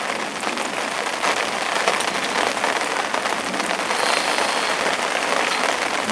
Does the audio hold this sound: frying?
no